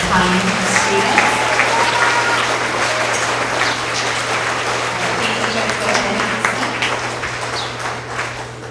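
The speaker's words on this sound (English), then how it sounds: "Give another round of applause for all of these kind students." Sustained applause from a crowd at an end-of-year elementary school award assembly for third to fifth graders, steady clapping throughout with a low murmur of voices mixed in.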